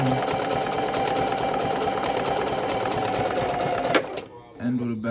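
A sewing machine stitches fabric in a fast, continuous whir that stops abruptly near the end, followed by a brief pause and a voice talking.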